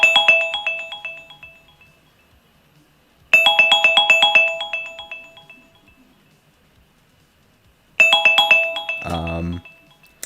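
Electronic phone ringtone chiming in three bursts of rapid tonal notes separated by pauses, fairly loud, with a brief voice cutting in over the last burst.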